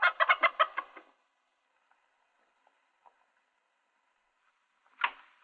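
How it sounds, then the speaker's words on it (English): A chicken clucks in an old Western film, a rapid burst of loud clucks at the start, then near silence before another single cluck at the end. "What's wrong with that bird?"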